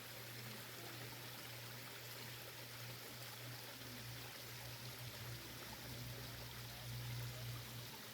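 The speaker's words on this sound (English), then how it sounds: "And this is the creek at ground level." A mountain creek at ground level in Montreat flows steadily, a constant soft rush and babble of water with a low hum beneath, continuous and unbroken throughout.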